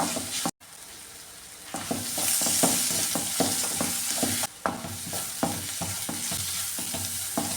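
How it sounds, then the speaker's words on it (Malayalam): Onions sizzle and fry with salt in a pan for a Kerala papadam curry, a steady close hiss broken by repeated scraping stirs; no talk. "ഉള്ളിയൊക്കെ നന്നായിട്ടൊന്ന് മൂത്ത് വന്നിട്ടുണ്ട്"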